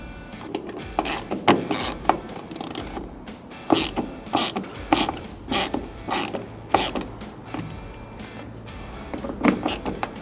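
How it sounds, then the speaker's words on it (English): A small ratchet tightening tail light hardware on a 1973-87 Chevy GMC squarebody truck: close, loud bursts of rapid clicking in short repeated strokes with pauses between them. "especially if you're using a small ratchet like I am"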